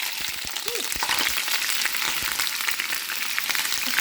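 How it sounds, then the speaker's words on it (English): Hot grease crackles and spits steadily while shrimp mei fun fries in a pan, a dense close-up sizzle with sharp pops scattered throughout and no talking. "Splatter everywhere."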